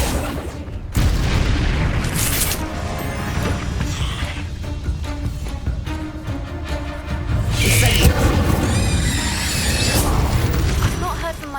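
Fire spell explosions and magical combat in Hogwarts Legacy, with loud, dense booms, crackling bursts and whooshes layered over a constant game soundscape and music, and no pause in the noise.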